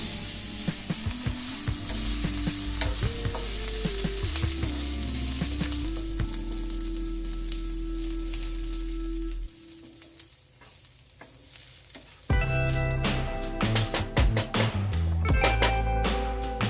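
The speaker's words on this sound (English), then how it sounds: "I've got just a little bit of oil in a pan over medium heat, and I'm just going to drop my onions in and cook them" Onions sizzle in a little oil in a pan over medium heat, a steady close frying hiss with clinks and scraping as they are stirred, and no talking.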